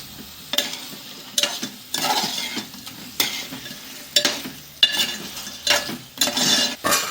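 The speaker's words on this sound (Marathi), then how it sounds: "हा मस्त हलवून याच्यात पूर्ण मसाला गेला पाहिजे तो पण पळीने हलवायचं" A ladle stirs lobster masala gravy in a pan, making repeated scraping strokes and clinks over a low frying sizzle in an irregular rhythm of close, distinct bursts.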